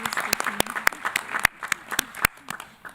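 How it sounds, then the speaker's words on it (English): Audience applause for a panel at a UN seminar opening session, a loose scatter of sharp claps with some talk running underneath throughout. "let me please invite you to give our fantastic panel one more round of applause"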